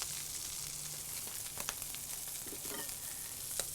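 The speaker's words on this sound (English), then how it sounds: "Get a little toast on the bun." A burger bun toasts on a hot griddle with a soft, steady sizzle and a few faint crackles, quiet and close, with no voices.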